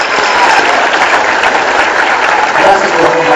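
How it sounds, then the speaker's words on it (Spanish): Loud, dense applause from a crowd at a community event honouring elderly people, continuous close clapping that holds steady throughout. "un fuerte abrazo y aplauso a la gente grande, con experiencia, con principios."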